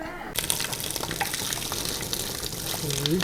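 Water gushes and splashes as rice is washed by hand, a close, continuous running sound with a voice briefly audible in the background.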